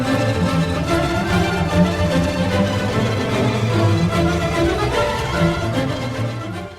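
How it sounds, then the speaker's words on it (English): Orchestral violins play col legno, striking the strings with the wooden backs of their bows. The result is a dense, continuous, steadily loud orchestral texture with brittle, clicking strokes running through it, with no talking. "the violins in the orchestra play with the backs of their bows, which is to say the wooden part"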